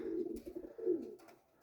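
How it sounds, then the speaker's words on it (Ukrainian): Soft, low coos from flying pigeons repeat in a few short phrases, fairly close, with no talking. "Оце всі голуби, які"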